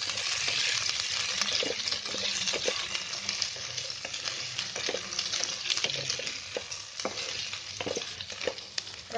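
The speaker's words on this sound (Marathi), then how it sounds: "कांदा मस्त फ्राय व्हायला आलाय." Onions frying in a pan for a Konkani-style navratna pulav, with a steady dense sizzle throughout and repeated scraping knocks from a wooden spatula stirring them.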